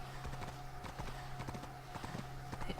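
Horse hooves clip-clop at a steady trotting rhythm in the Black Desert Online video game, quiet and continuous with faint game ambience underneath.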